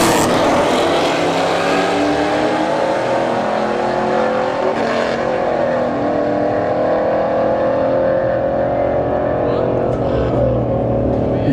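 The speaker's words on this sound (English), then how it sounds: "Firebird versus Mustang." A Firebird and a Mustang roar down a drag strip at a street-heat test-and-tune night, their engines loud and sustained as they accelerate, with a commentator talking over the noise.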